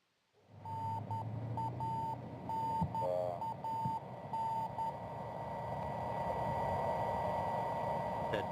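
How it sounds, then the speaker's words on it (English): Steady repeating radio beacon beeps from a Soyuz spacecraft during its landing descent, a clear mid-pitched tone pulsing at regular intervals over a constant hiss of background noise. "That beeping sound that you hear is a radio beacon that is coming from the SOYUZ spacecraft"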